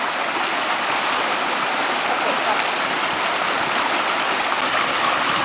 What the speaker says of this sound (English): And I'm sitting in the middle of the river.